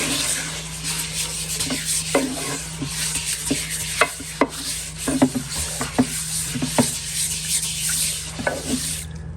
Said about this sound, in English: And then I like to come back with my brush. Don't forget the sides.